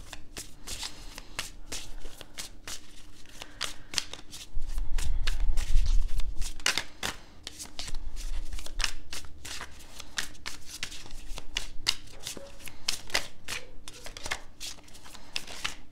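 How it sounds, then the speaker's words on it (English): Tarot cards shuffled repeatedly in quick riffling bursts, close by, with a steady papery flutter and occasional soft taps; no talking. "So we'll shuffle with a little more intention here."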